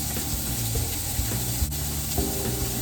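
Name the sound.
steak searing and sizzling in a pan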